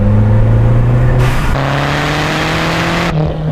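A 1993 Lancia Delta Integrale Evo 2 with a 16-valve catalysed engine drones steadily while driving, a loud, close, sustained hum with a brief shift in pitch midway and no voices.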